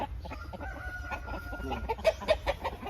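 Young Thai fighting rooster, offspring of a Thong Dam sire, giving short clucks and calls amid a busy yard of other fowl, with a few louder bursts close by near the end.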